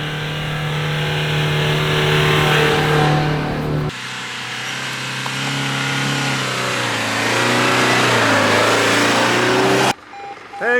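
A 4x4 car on a sandy Australian beach, its engine revving hard and loud as it climbs, then dropping to a lower strained drone after a shift, cutting off abruptly near the end.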